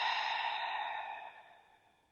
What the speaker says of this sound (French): Et expirez par la bouche.